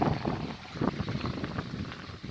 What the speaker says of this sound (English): We've got a decent wind.